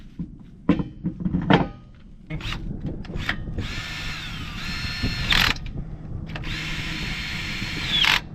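A caravan wheel is bolted back onto its stub axle with a power tool, short buzzing bursts followed by longer whirring runs with clicks and knocks between them, close and fairly loud.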